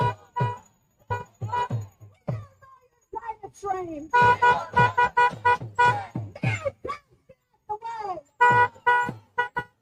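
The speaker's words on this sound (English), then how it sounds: "here's some videos she took of passersby honking and with the protesters" Passing cars honk repeatedly at a street protest outside a college where President Biden is due to speak, with loud, close, bright horn blasts in short bursts and clusters.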